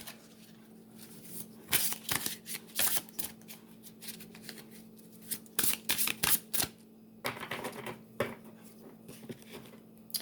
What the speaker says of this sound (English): I'm going to do a quick shuffle here of this deck.